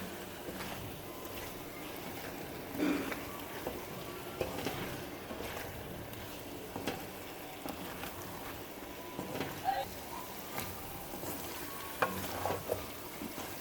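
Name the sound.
spices being fried for bhindi gosht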